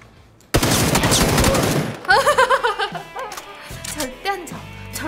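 Rapid automatic gunfire bursts loudly in a competitive battle royale shooter match, followed by scattered shots and a player laughing and talking over the game sounds.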